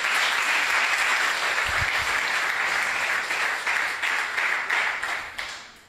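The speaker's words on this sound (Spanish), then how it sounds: "Dale un aplauso al Rey." A church congregation claps and applauds during worship, a loud, dense, sustained round of clapping that holds steady and then tapers off at the end.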